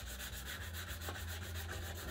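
Steady, even rubbing of 150-grit sandpaper across a wooden SUP paddle, a continuous close scratchy hiss with a regular back-and-forth rhythm and no talking.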